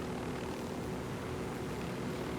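Propeller airplane engine in the Ghost Recon Wildlands video game, a steady, droning hum that holds at even strength throughout, fairly quiet with no voices.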